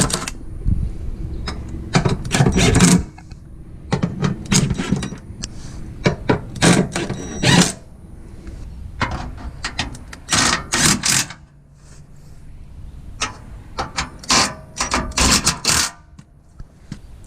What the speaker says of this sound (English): So now I'm going to tighten it all up.